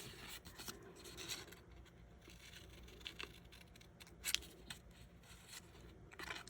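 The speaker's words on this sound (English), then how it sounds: "just gently fold that, find the center, and cut up the center and then angle it in" Scissors snip through paper while trimming a scrapbook banner, cutting up the folded center and angling in; soft close rasping cuts and rustles with a few sharper clicks, quiet and alone.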